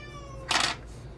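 A whiny cat lets out a single short, plaintive meow that swells and fades within about a second, fairly close and alone.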